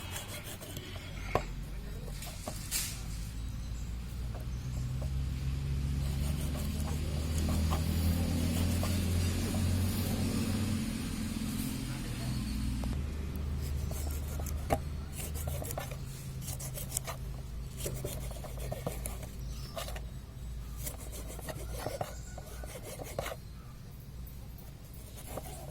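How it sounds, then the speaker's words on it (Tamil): A knife works through tomatoes in a home kitchen, with dull rasping cuts and board taps that grow more distinct in the second half, over a low background rumble and no speech. "தக்காளி கட் பண்ணிக்கலாம்."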